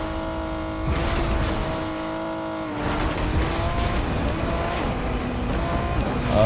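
Car driving in Fortnite, the engine humming steadily with tonal whine that rises and shifts as it accelerates, tires faintly squealing, loud and continuous with no talk.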